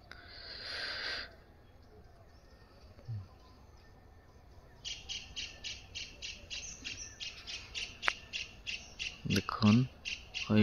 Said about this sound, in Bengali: ওই বাঁশ বাগানের মাথার উপরে পাখিগুলা বসে আছে, বসে থেকে কিচির মিচির করে রাখছে।